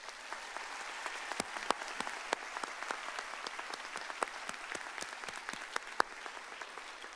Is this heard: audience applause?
yes